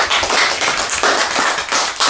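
Audience applause for a poetry reading presenter at a literary evening, a short burst of clapping in uneven surges, fairly close and loud.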